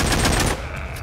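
Automatic gunfire in the zombie shooter game The Walking Zombie 2, a rapid, loud burst of shots that cuts off partway and leaves a thinner tail.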